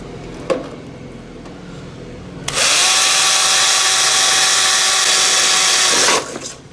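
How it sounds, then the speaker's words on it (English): A power drill whirs loudly and steadily for several seconds at high speed, drilling a hole in a Maytag Atlantis dryer tub during a bearing repair, starting abruptly and cutting off sharply, after a quiet, faint click. "Okay, drilling the last hole"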